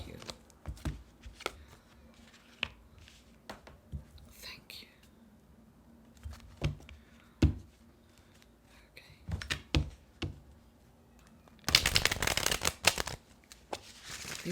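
Tarot cards shuffled by hand for a card draw, giving soft rustling flicks and taps scattered through the clip under whispered speech, ending in a louder burst of riffling.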